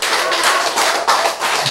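Audience in a lecture hall clapping together, a loud, continuous burst of many hands with slight swells in intensity, no talking heard.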